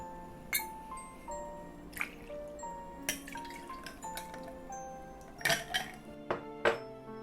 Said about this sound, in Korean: 먼저 잔에 얼음을 채워 주시고요. 피치트리를 45ml 넣어 주도록 하겠습니다.